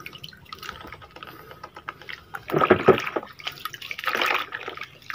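Water is pumped in and out of an Epson printer purge unit, giving wet gurgling squirts in short bursts, with two louder sloshing surges near the end, close up.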